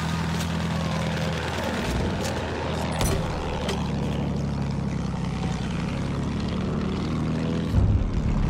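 Enemy propeller aircraft in Battlefield 1: a loud, steady, buzzing engine drone that holds throughout, with faint battlefield noises beneath it.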